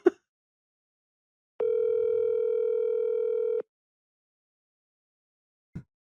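A phone call on speakerphone sounds a single steady two-second ringback tone, loud and close, with brief faint noises just before and after in an otherwise silent stretch.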